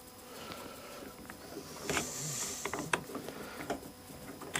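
A handheld digital torque wrench ratchets while unscrewing a fastener, producing a close run of small mechanical clicks and metallic ticks at an uneven pace, with no talking.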